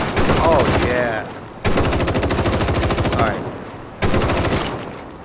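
Rapid automatic gunfire from weapons in the shooting game Crossfire Sierra Squad comes in three long, loud bursts, each ringing out with a metallic tail before the next burst starts.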